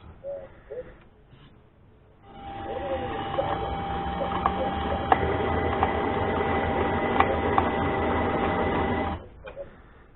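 A mini lathe runs forward during single-point threading, a steady mechanical whine and rattle with faint scratching ticks, close and alone for several seconds before stopping.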